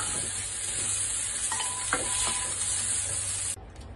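Shrimp fry in a pan until golden, producing a steady, bright, close sizzle with a few clinks of utensils, alone, before the hiss drops away sharply near the end.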